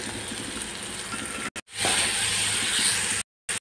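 Steady sizzling hiss of moth bean usal ingredients, coriander and chilli, frying in hot oil in a home kitchen, loud and continuous with a couple of brief cut-outs and a surge of spattering midway.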